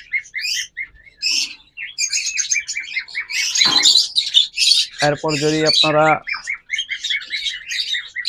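Someone's lovebirds at a bird shop chirp and tweet in rapid, busy bursts throughout, close and fairly loud, with someone talking briefly in the middle.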